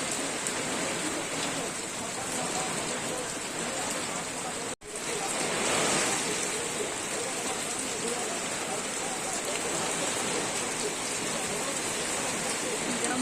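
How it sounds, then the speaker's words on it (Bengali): Heavy torrential rain during a storm, a loud, dense, continuous roar of downpour with a brief cut near the middle before it resumes unchanged. "বৃষ্টি হচ্ছে দেখুন বন্ধুরা ঝড় হচ্ছে তার সঙ্গে বৃষ্টি মুসলধারে বৃষ্টি হচ্ছে"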